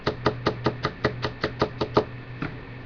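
A person raps out an imitation of tapping on a hard surface, about eleven quick, evenly spaced knocks, close and steady, then a pause and one last softer tap.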